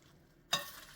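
Caesar salad being tossed and dressing poured over it, a sudden burst of wet stirring and splashing that starts abruptly halfway through and continues close up, with no talk.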